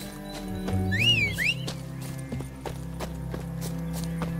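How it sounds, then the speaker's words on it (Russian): A horse in The Witcher 3 video game whinnies with a rising and falling neigh while its hooves clip-clop in a steady rhythm, close and clear over a low background hum. "Лошадь как подозвать, чтобы подозвать лошадь, дважды нажмите X."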